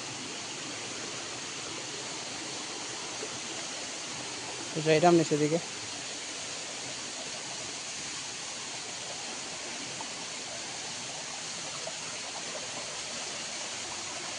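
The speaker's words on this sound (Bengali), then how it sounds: "দেখাই ঝর্ণা মানে খুব সুন্দর ঝর্ণা" Waterfall in Hailakandi, Assam, heard as a steady, fairly quiet rushing wash of water that runs unbroken throughout, with one brief spoken phrase near the middle.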